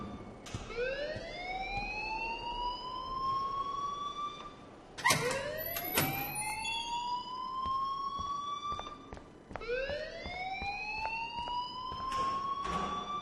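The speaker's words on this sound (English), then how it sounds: "please turn off that alarm since that's your job" An alarm blaring in the game Life is Strange: a wailing siren tone that sweeps upward and then repeats in three long cycles, with sharp clicks between them, moderately loud and with no speech.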